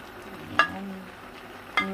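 Squash and green beans cooking in a coconut milk stew with shrimp simmer softly in a pot, with two brief utensil clinks against the pot.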